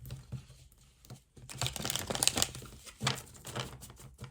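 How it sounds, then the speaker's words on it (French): Tarot cards are shuffled by hand in short irregular bursts of riffling and rustling, fairly close and quiet, with a pause near the start and no speech. "Je vais juste mélanger comme ça une fois."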